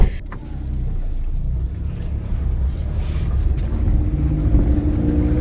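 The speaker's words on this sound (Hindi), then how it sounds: "गाड़ी को हम मोड़ रहे हैं, बेटा मेरा मोड़ रहा है" Car engine hum and road rumble as a car is driven and turned a short distance from home, a continuous close drone with some wind noise, no talk.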